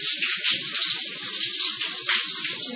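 Water running from a tap while a cat is bathed, a steady hissing splash close by, continuous and fairly loud throughout with no talking.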